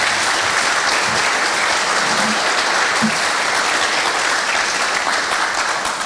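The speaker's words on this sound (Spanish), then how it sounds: "Le brindamos un fuerte aplauso," Loud, dense applause from an audience at a book presentation, a continuous close wash of clapping that holds steady throughout.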